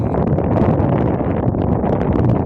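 Constant wind buffets the microphone at Mosquito Lagoon, a loud, rumbling roar with no pauses.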